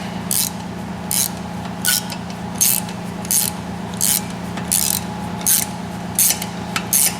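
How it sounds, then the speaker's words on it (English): Phillips screws being backed out of the front flywheel cover on a 1974 Harley Davidson golf cart, a series of about eleven short, regular rasping squeaks over a steady low hum, close up with no talking. "I do believe this is my last screw to take out"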